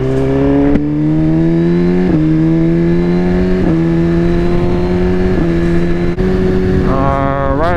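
A Suzuki GSX-R 1000R sport motorcycle accelerates hard at wide open throttle, its loud, rising engine howl climbing through several quick gear shifts, heard close up from the rider's position.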